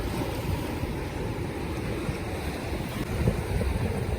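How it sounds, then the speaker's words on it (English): Vast volumes of salt water rush and churn continuously at a river mouth at Cape Vidal, a loud, steady surf roar mixed with wind buffeting the microphone. "this is vast volumes of salt water heading up, and with some force"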